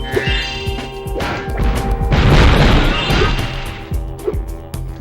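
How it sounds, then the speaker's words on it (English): Blocks smashing open in the video game Spyro: Year of the Dragon, with sharp whacks and crunching booms repeating in a loose rhythm and one bigger crash in the middle, mixed with game music. "To smash open all the blocks around"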